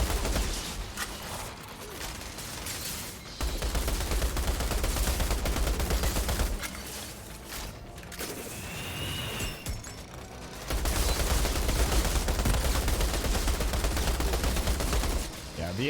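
A machine gun in a video game fires in long sustained bursts, a dense loud mechanical clatter broken by short pauses and quieter stretches, close and continuous.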